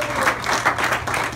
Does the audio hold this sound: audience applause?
yes